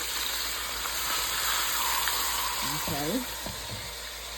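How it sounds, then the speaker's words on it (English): Oxtail pieces sautéing in a hot pot, a steady sizzle and hiss of frying meat that carries throughout, with a brief spoken word near the end. "I'm just gonna stick it in there and let it saute"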